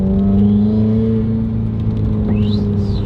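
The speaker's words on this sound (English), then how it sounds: "Dude, turbos in these are so loud." Turbocharged FA20 engine in a Subaru WRX rumbling loudly and steadily from inside the car, with a rising whistle near the end as boost builds.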